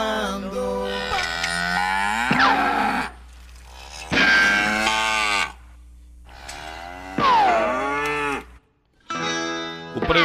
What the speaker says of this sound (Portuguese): A bezerrada tá berrando.